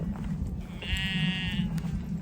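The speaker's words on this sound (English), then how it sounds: "That poor sheep." A single sheep bleats once in a wavering, drawn-out call at moderate distance, heard over a steady low rumble of outdoor background noise in the northern countryside.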